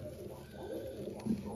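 A pigeon coos faintly in short low murmurs beneath a person talking nearby.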